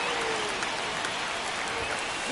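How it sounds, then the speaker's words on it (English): A stadium crowd in the MLB 26 baseball video game roars and applauds in a tense ninth inning, a dense, steady wash of cheering filling the whole moment. "Crowd locked in right now."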